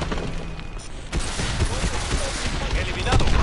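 Machine gun fire in Call of Duty: Advanced Warfare, with dense rattling bursts and impacts under a loud battle mix while voices talk over the action.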